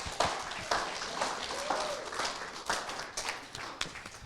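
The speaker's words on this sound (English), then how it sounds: "Can we give a round of applause for Darla too?" Audience applause at a National Indigenous Peoples Day celebration with dancers, a steady patter of many hands clapping in a room with a few sharper claps standing out, continuing throughout.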